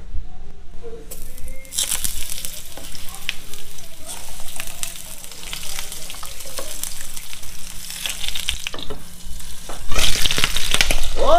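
Food sizzles and crackles steadily in a hot frying pan, loud and close, with occasional stirring clatter and a surge of spitting near the end.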